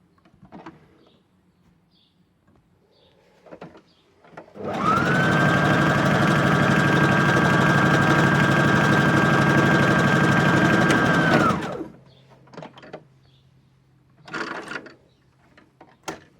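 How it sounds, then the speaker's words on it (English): Sewing machine stitching a roughly 1 cm fabric seam on a drawstring bag, a steady whirring motor hum running for about seven seconds and then stopping abruptly, with quiet handling sounds before and after. "Now I'm going to match the edge of my fabric up with the edge of my foot, so that I'm sewing about a 1cm width seam."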